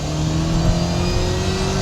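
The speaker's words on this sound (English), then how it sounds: "It does rev up nicely." A Mercedes-Benz SLK R171 revs hard under throttle on a country road, a loud, sustained engine note climbing steadily in pitch, heard close with no voices.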